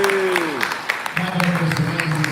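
Audience applause at a comedy show in a coffee shop, sparse claps running under a loud voice talking and calling out throughout.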